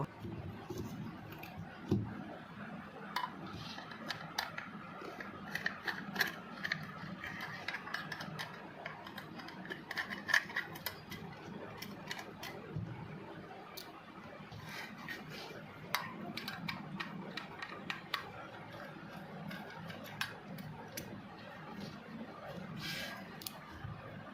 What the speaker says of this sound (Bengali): প্রথমে আমি স্ক্রু দুটি খুলে নেব